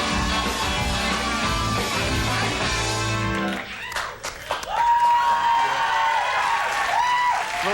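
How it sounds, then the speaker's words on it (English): A late-night TV studio audience gives a brief, polite golf clap, coming in after loud band music cuts off, then scattered clapping and crowd murmur under people talking. "Little golf clap for that one."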